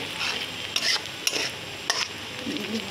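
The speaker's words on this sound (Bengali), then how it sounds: "2 মিনিট মতো ভেজে নেব।" Ground spice powders (turmeric, chili, coriander and cumin) fry and sizzle in a pan, a steady soft hiss broken by a few sharp scraping stirs of a spoon.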